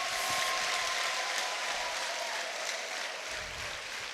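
A church congregation claps for God during a sermon, with dense, sustained applause filling the room at an even level and only a slight easing toward the end.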